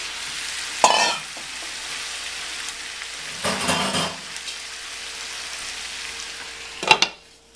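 Hairy melon stir-fried in a covered pan with a little liquid gives a steady low sizzle throughout, with a few louder clattering bursts of stirring near the start, the middle and the end.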